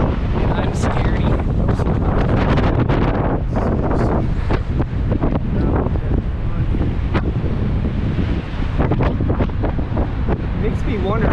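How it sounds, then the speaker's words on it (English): Strong wind roars steadily into the microphone on a large bridge on a hiking trail, a loud continuous buffeting rumble that never lets up, with faint voices buried underneath. "It is windy."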